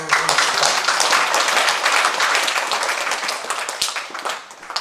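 Church congregation at a healing revival service breaks into loud, sustained applause, a dense wash of many hands clapping together that fades slightly toward the end.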